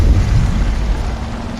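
Steady rain falling in the video game Assassin's Creed Valhalla, a loud, continuous rumbling wash with low, thundery weight and no voices.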